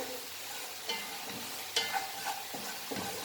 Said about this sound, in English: So my masala is nicely fried.